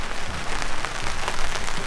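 Steady rain falls on a 4x4 campsite, a dense, even hiss with scattered droplet taps that holds at a constant level throughout, with no voices.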